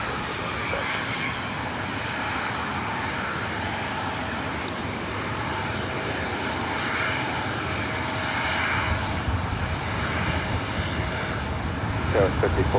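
A loud, steady airplane engine roar builds as a plane takes off from runway 24 right at LAX, with radio voices talking over the sound.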